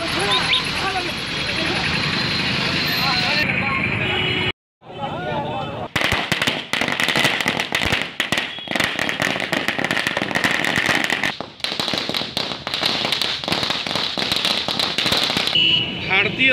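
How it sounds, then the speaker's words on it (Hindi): Firecrackers bursting at a street procession in Bihar, a dense rapid crackle of loud pops running for several seconds after a brief pause, with crowd noise beneath. "पटाखे भी फोड़े गए"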